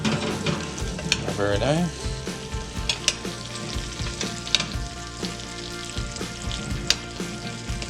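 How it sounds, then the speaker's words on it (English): Garlic potatoes sizzling steadily in a frying pan as they are stirred and flipped, with scraping knocks over the constant crackle and a brief spoken comment. "Time to check on our potatoes and flip them around a little bit."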